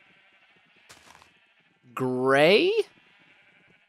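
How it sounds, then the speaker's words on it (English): A single loud, wavering sheep bleat in the video game Minecraft rises out of quiet background game ambience, close and lasting under a second, with a faint click shortly before it. "Can I turn the sheep down a bit? They're very loud."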